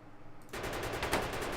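Gun turrets firing bullets in Factorio, starting abruptly after a quiet moment into a rapid, steady machine-gun rattle of many close, loud shots that continues to the end.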